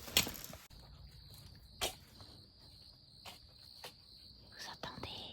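Crickets chirp in a French vegetable garden in late May, a steady high trill running through the clip with a few louder rustles and taps nearby; no one speaks.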